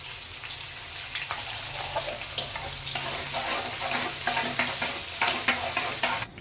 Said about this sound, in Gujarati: એક મોટી ચમચ તલ નાખવી પાત્રાનો વઘાર બનાવીએ એટલે ગેસ ધીમો રાખવાનો